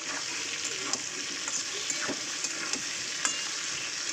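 Onion and potato fry together in a pan, a soft, steady sizzle with light scraping and occasional stirring clicks, heard close but fairly quietly.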